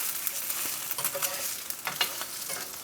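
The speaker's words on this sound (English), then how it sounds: "We're gonna flip our eggs." Eggs fry in a pan alongside biscuits and hash browns, a steady soft sizzle with a few scraping taps and clatters as they are flipped, fairly close, no talking.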